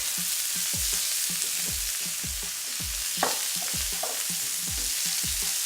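Italian meatballs made with big chunks of bread fry in a pan, sizzling steadily as they brown, with repeated scraping stirs, a few brief louder clatters midway, and no talking.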